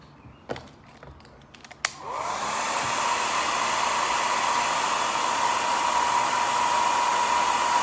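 A couple of sharp clicks come first, then a hair dryer switches on and blows heat onto leather with a loud, steady whooshing roar that holds to the end, no voices over it.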